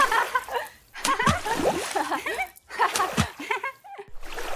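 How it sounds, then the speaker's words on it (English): Children splash water in a bath in bursts of sloshing and splattering, close and lively, mixed with giggles and squeals. "they are splashing water all around"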